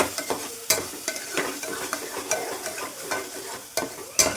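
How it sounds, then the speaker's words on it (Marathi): Masala frying in oil is stirred in a pan, with irregular scraping and clattering strokes over a soft, steady sizzle, close up and with no talking. "चांगला हलवून घ्यायचं"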